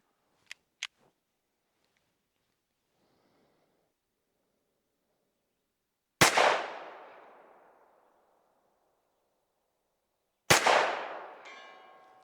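A GP Arms 2011 pistol fires at a long-range target outdoors: two loud, sharp shots about four seconds apart, each trailing off in a long echoing decay, after a couple of faint clicks.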